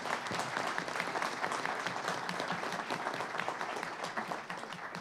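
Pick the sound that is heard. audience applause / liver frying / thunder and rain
audience applause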